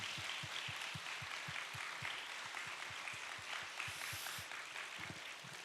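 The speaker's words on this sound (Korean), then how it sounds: "우리 서로 한번 큰 박수 한번 하겠습니다" A church congregation at a youth summer retreat applauds together, a steady crowd of many hands clapping continuously at moderate loudness with no talk over it.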